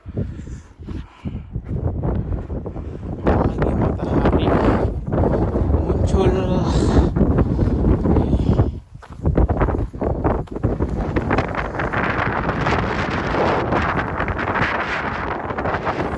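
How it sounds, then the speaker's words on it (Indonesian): Strong wind buffets the microphone along an exposed ridge near the summit of Mount Rinjani, roaring in loud, uneven gusts with one brief lull midway, and a voice faintly audible beneath it. "angin terasa lebih kencang daripada tadi"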